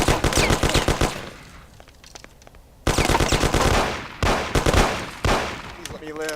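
Tommy gun fire in the Mafia video game: loud rapid automatic bursts, a sustained rattling volley at the start, then a quieter gap followed by several more sharp bursts and single heavy shots.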